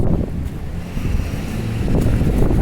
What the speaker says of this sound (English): Cold and windy.